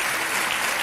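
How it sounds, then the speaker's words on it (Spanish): Dense studio audience applause on a Spanish afternoon television show, a steady wash of many hands clapping loudly and continuously for the whole short stretch, with no speech over it. "Un aplauso para Enrique"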